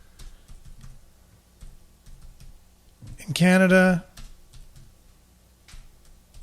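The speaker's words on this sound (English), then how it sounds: "I'm typing with one hand." One-handed typing on a computer keyboard: sparse, soft clicks and taps scattered through a quiet room, briefly covered by a short burst of speech.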